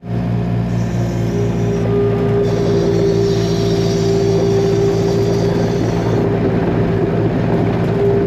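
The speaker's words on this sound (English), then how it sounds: "let me jump in the skid steer and unload these bins" A skid steer engine runs steadily and loud throughout while bins are unloaded at a farm, a constant low droning hum with a faint whine above it and no talk.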